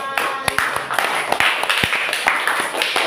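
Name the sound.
audience applause in a classroom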